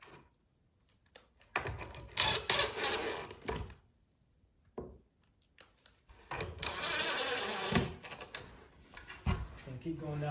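A power screwdriver drives screws into an outdoor structure in several bursts of whirring, grinding motor noise separated by pauses. Someone talks quietly in between.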